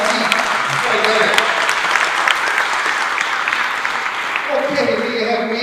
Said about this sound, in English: Another big round of applause to our coach,